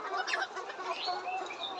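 Layer pullet hens on a poultry farm cluck and chatter together in a dense, continuous flock chorus, close and fairly loud, with no voice heard.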